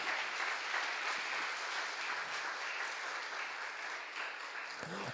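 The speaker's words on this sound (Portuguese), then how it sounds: "Você pode aplaudir ao Senhor por isso?" A church congregation applauds during a sermon, a dense, steady wash of many hands clapping that fills the whole stretch evenly and loudly, with no voices standing out above it.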